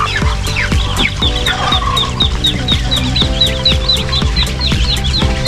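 Several chickens cluck and squawk close by in quick, overlapping calls, with steady rhythmic farmyard noise and no talking.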